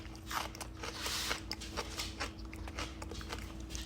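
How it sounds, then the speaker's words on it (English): Raw rutabaga pieces being chewed close to the mouth, a steady run of wet, crunchy bites and chewing with a faint background hum and no talk. "I know, you're hearing me crunch"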